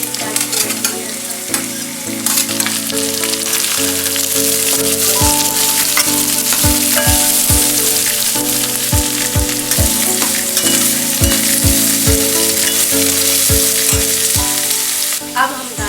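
Capsicum and mixed vegetables stir-fried for Hakka-style veg chowmein, a steady loud sizzle with repeated scraping stirs and clattering strokes over background music, no talking.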